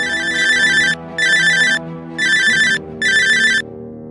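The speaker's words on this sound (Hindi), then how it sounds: "तभी उसके पुराने फोन की कर्कश रिंगटोन बजी।" An old phone gives a harsh, shrill electronic ringtone in four loud, evenly spaced bursts with short gaps between them, close and alone.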